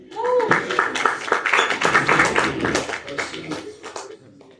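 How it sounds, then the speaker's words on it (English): Audience applause for panelists at an NBA All-Star investor happy hour panel: dense, steady clapping that fills the room for about four seconds, with voices mixed in, then tapers off near the end. "Give them a round of applause, please."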